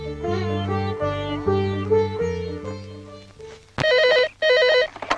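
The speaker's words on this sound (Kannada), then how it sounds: "ಪಾರು ಫೋನ್ ಬಂದಿದೆ ಕಣೆ." A telephone rings twice in a movie scene, electronic trilling bursts cutting in loudly after a stretch of sustained background film music.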